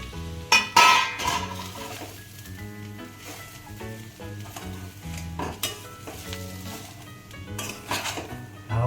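Deep-fried semolina is tipped into a pan and stirred, with a steady sizzle of frying under repeated scraping and clinking of a metal spoon against the pan, close and busy throughout.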